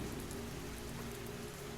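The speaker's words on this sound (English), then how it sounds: "The rain outside grew heavier" Rain falls outside at night as a steady, even hiss of drops on surfaces, faint and continuous with no voices.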